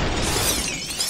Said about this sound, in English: Break the glass.